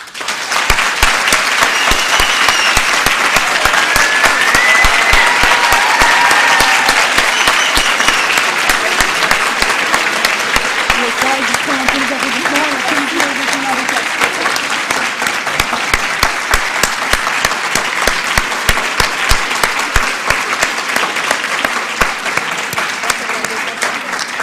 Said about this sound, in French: sous vos applaudissements également, et je vous demande d'être vigoureux dans vos applaudissements